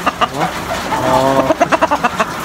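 A Boston Roundhead rooster clucks close by, a rapid run of short, evenly spaced clucks following a longer throaty call, loud and alone.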